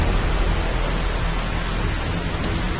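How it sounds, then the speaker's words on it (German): Rain falling in the video game Call of Duty: Modern Warfare 3, a dense, even hiss of steady downpour filling the whole clip without any pauses or talk. "So kommt schön Regen drauf."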